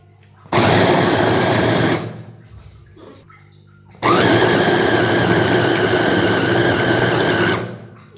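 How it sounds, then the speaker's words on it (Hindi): An electric food chopper grinds ingredients for desi panjiri in two loud bursts, each a dense whirring roar lasting a second or two and a few seconds respectively, separated by a short pause. "तो हम चॉपर को चलाएंगे"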